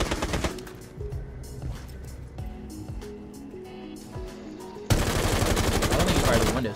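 Gunfire in the video game Rainbow Six Siege, loud rapid bursts of shots with dense automatic fire near the end, under a busy mix of game effects.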